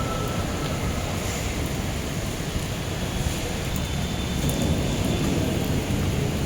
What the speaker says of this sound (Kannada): ಅಷ್ಟು ಗಾಳಿ, ಅಷ್ಟು ಮಳೆ.